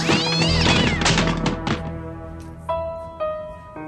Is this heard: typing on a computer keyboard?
no